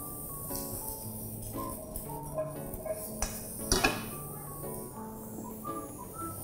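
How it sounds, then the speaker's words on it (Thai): Mushrooms being stir-fried in a pan for a vegetarian tofu sandwich filling, seasoned with soy sauce and sugar: quiet, irregular metallic clinks and scrapes of a utensil against the pan, with a soft tonal background. "ใส่เห็ดลงไปผัดให้สุก"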